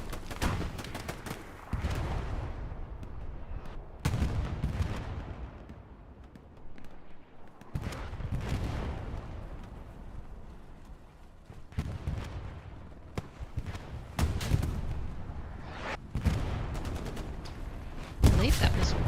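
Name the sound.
rocket hit on a tank in the video game Hell Let Loose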